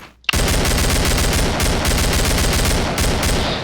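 Tommy gun firing in the Killing Floor video game: after a brief pause, a loud, close, sustained burst of rapid automatic shots in an even rattling rhythm, with a few short breaks near the end.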